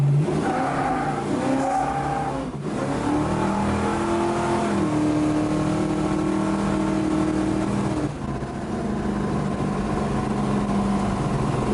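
A 1964 Plymouth Belvedere on street tires launches from a stop, its engine revving hard with a rising then sustained roar while the tires squeal and spin throughout, loud and close.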